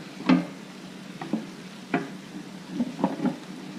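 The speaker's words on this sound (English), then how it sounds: "Again, this mixer works great. Gets everything mixed together well." Meat mixer blending ground venison and pork for summer sausage, with intermittent scraping and clunking knocks and soft squelching at irregular intervals, close by.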